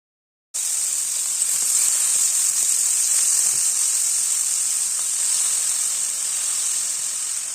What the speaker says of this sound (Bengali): অয়েল কিছুটা গরম হলে চিকেনের কিউবগুলো একে একে প্যানে দিয়ে দেব।